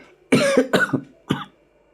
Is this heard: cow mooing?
no